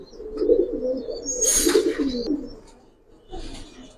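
Giribaz pigeons cooing in a close, low, throaty series of rolling coos, with a short rustle in the middle and another soft coo near the end.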